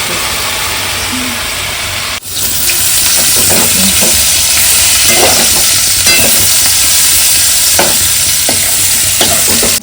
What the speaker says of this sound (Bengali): মশলাগুলো একটু ভাজা গোটা মশলাগুলো একটু ভাজা